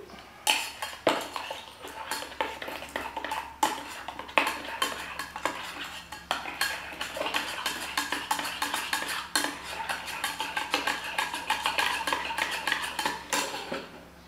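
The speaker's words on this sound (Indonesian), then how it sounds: "kita aduk" Spoon clinks and scrapes against a glass, stirring iced moringa coffee latte in steady, rapid strokes with bright metallic taps, close and alone throughout.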